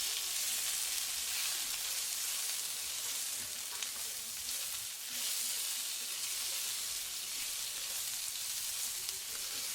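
Sliced red onion sautés in hot oil with ajwain (carom) seeds and spices, a dense continuous sizzle and crackle that stays loud and even from start to finish.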